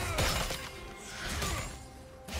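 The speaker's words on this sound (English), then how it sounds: "Red team's turret has been destroyed." A turret in League of Legends shatters and breaks apart, with a crashing, crumbling burst that rises again near the end over a busy game background. No one speaks.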